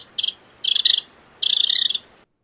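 A bird gives three sharp bursts of rapid, high chirping, the last one longest, each separated by brief quiet over a faint hiss of background noise.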